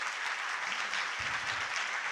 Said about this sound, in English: everybody give a round of applause for all the